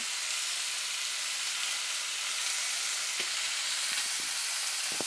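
Food sizzles and spits steadily in a non-stick pan, a broad, even frying hiss held close throughout with a few small pops and stirring knocks near the end, and no voices.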